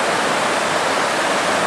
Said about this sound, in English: Lovely little waterfall like,